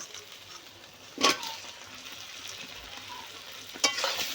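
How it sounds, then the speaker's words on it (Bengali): Boiled jackfruit goes into spiced oil in a pan, and two sharp bursts of sizzling a few seconds apart rise above a low, steady background frying hiss. "এখন আমি সিদ্ধ করে রাখা এঁচোড় দিয়ে দেব।"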